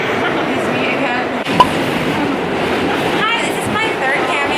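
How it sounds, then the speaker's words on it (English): A New York City subway train rolls along in a steady loud interior rumble, with a brief clank and faint squealing tones in the background. "So we're on the train now."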